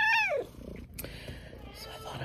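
A single short cat meow up close, followed by a low, soft purring rumble and faint background noises.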